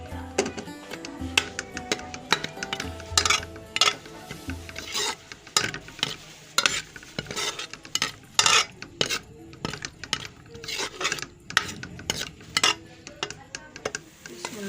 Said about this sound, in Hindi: अब मैं प्याज शामिल कर रही हूँ।